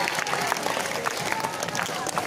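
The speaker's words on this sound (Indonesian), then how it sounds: "Tepuk tangan dong." Audience claps at a school orientation event as a student is called forward, a dense patter of many hands sounding continuously at moderate distance, with a voice faintly mixed in.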